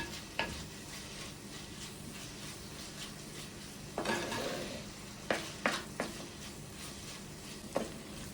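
Chopped onions sautéed with salt in a pan for a traditional Kerala dish, giving a low, steady sizzle broken by several sharp spatula scrapes and knocks against the pan.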